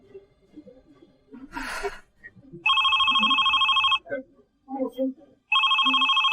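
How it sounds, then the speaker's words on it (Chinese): A phone ringtone sounds as two sustained bursts of bright electronic tone, separated by breathing, a sigh and small indoor noises, heard indoors in a drama scene. "裴云舟，你没必要再给我打电话了"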